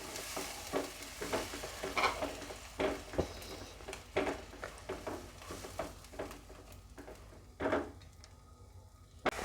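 Tomatoes being stirred in a curry pan for a green peas and potato curry, with repeated scraping strokes over a soft sizzle, close and moderately loud, in irregular bursts.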